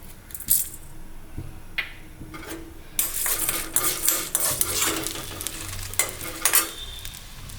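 Chana dal and urad dal frying in sesame oil for a radish chutney, heard as a close sizzle that starts quiet and swells into busy crackling, with a few spoon scrapes and clinks against the pan.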